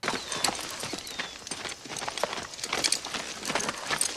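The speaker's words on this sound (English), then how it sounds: "but he's on a horse" Horse hooves clip-clop in a scene from the film The Color Purple, giving quiet, uneven rhythmic clops at a walk over faint background sound, without any speech.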